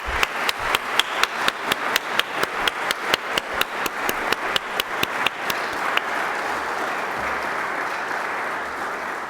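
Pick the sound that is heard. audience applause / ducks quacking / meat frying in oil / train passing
audience applause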